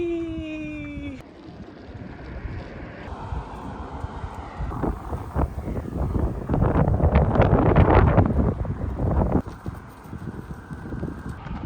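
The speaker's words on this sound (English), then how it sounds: "I know it's windy" Wind gusts across the microphone during a walk along a tree-lined road, a low rumbling buffet that swells and peaks midway before easing, with a faint tone fading at the start.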